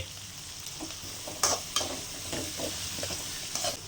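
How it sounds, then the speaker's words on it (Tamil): Onion, chana dal, mustard seeds and green chili sauté in a pan for semiya upma, a close soft sizzle with repeated sharp scraping stirs of a ladle, no talk. "கடலப்பருப்பு, கடுகு, வெங்காயம், பச்சை மிளகா போட்டு வணக்கும் போது உங்களுக்கு அந்த ஒரு வாசம் வரும்"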